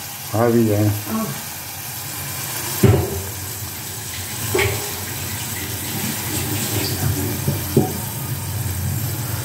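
Tamarind water for puli pongal hitting hot oil in a pan, with a loud burst of sizzling at the start, then a steady crackle with a few sharp spits through the rest.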